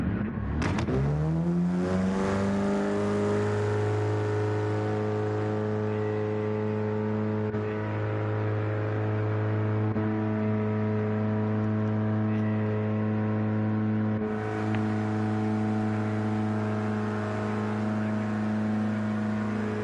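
A race car engine idles steadily during a pit stop in Gran Turismo 7, a constant tonal drone that holds at an even loudness throughout, with no talk over it.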